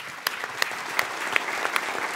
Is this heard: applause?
yes